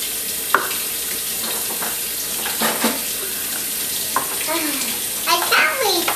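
Warm water runs steadily from a kitchen tap, a constant close hiss and splash, while a person speaks briefly over it and a few small clinks and knocks come through.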